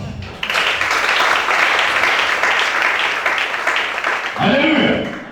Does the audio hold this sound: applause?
yes